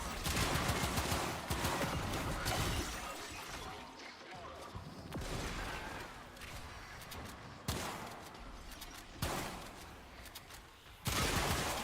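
Compact sniper-style rifle in Warframe firing several loud, sharp shots at irregular intervals, each cracking out over a dense background of game noise.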